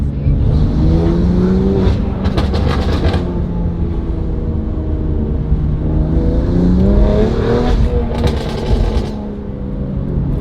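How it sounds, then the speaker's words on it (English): A BMW M2 Competition's aftermarket exhaust revs steadily with deep, smooth engine tones, punctuated by a couple of sharp crackling backfire bursts, loud and close throughout. "the tones of this exhaust, it's very, very noticeable. It sounds so good, so smooth."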